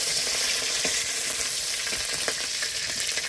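Prawns fry in hot oil for a Bengali home-cooked dish, giving a steady, close, fairly loud sizzle with faint crackles and pops throughout.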